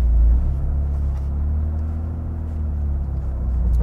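A 2023 Toyota GR Corolla Morizo is on the move, heard as a steady, deep engine and road rumble from inside the cabin, loud and unbroken with no voices.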